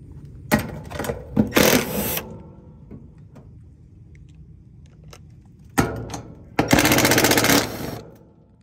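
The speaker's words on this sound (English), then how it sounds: "Now we're going to go ahead and unscrew all of these." A powered screwdriver backs screws out of an air conditioner unit's panel in two close, loud bursts of whirring and rattling, separated by several seconds of quiet handling noise.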